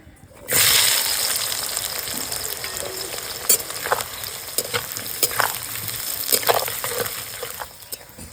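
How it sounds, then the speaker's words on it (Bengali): Chopped onions dropped into hot mustard oil burst into a loud, steady sizzle, with stirring scrapes and crackles continuing close up, no talking. "তেল গরম হয়ে গেছে এবার দেবো একটু বেশি করে পেঁয়াজ কুচি"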